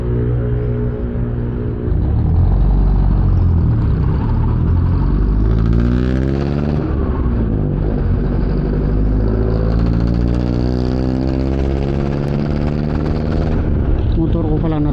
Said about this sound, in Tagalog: Motor ko pala natunog